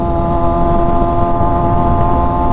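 Motorcycle cruising along a road on a morning breakfast ride at the Capitol in Lingayen, Pangasinan, its engine droning steadily and loudly up close with a constant hum throughout, no talking heard.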